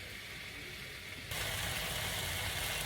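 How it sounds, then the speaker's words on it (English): Onions sizzle in a pan on the stove, a steady broadband frying hiss that suddenly grows louder and brighter about halfway through. "my onions are cooking."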